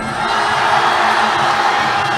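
A crowd at a Muay Thai fight cheers steadily for Chinese fighter Zhou as he swings big shots, a dense, continuous roar of voices and whoops that stays loud and even throughout without a break.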